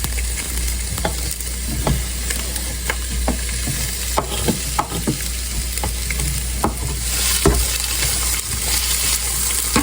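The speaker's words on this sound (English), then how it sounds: "Hear that nice sizzle?" Seasoning sizzles in hot olive oil in a pan, a steady close frying hiss broken by scattered stirring scrapes and clicks, with no talking.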